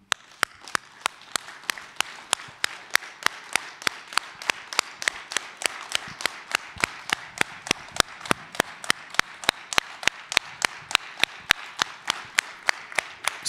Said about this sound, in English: the phase shifting kind of gives a kind of an aesthetic quality to the clapping